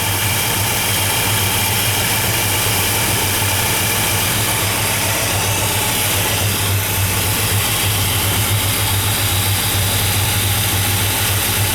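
Engine of a 1957 Chevrolet Bel Air two-door hardtop running at a steady idle with a deep low rumble, close and continuous, with no talking.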